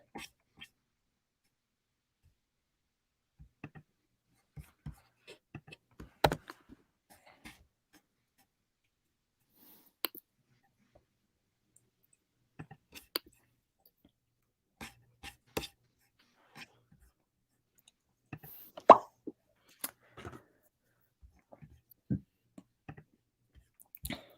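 Keys tapped on a keyboard to enter a game code, sparse light clicks in short irregular bursts with long gaps, quiet and close in a classroom setting.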